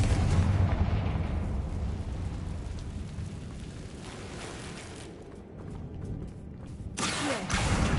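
A Confringo blasting spell explodes in the video game Hogwarts Legacy, rumbling booms at the start and another sharp burst near the end, set against a rain-like crackling background with no talk.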